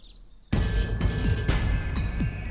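After a short quiet moment, a shrill electronic ring starts abruptly and keeps going loud and close, a high tone with bright pulsing overtones.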